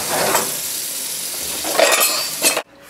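Pork frying Goya style crackles and sizzles in a pan, a dense close hiss with a couple of louder bursts of spatter and utensil clatter before it abruptly cuts off.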